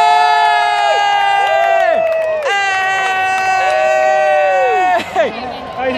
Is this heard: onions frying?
no